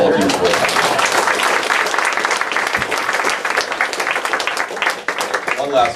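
An audience applauds at the end of a talk about God and belief, loud sustained clapping from many hands filling the room, with a voice talking over it.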